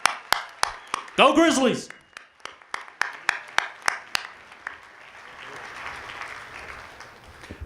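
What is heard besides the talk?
audience applause at a university convocation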